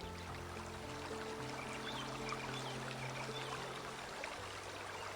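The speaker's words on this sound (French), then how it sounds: "Le son de l'eau qui coule doucement vous attire." A river flows gently in a calm landscape, a continuous soft rush and trickle of water with a steady low hum beneath, unbroken and with no talking.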